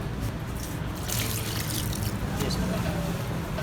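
Water pours and splashes into a bowl of egg and garam masala batter for Lahori-style fried fish, a steady close trickle lasting several seconds.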